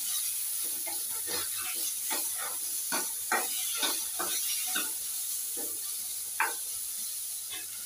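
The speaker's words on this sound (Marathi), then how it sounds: "मी आता 2 टोमॅटो टाकते" Tomatoes are added to onions frying in a pan for matar paneer, giving a steady sizzling hiss with scattered stirring scrapes and clicks throughout, and no voices.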